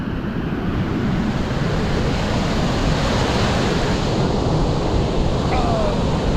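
Continuous surf washes onto the shore, loud and close, with wind buffeting the microphone the whole time and no speech heard.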